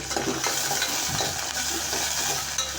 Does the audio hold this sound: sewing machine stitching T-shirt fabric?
no